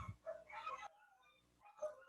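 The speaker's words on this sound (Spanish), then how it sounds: "disculpen por los perros" Dogs barking in the background during a lab class: a short burst of yelping barks, a brief quieter gap, then another bark, moderately close but not loud.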